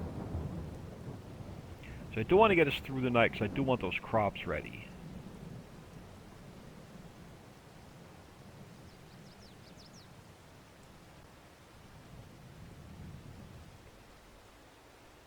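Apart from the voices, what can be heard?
rain and thunder in Farming Simulator 22 video game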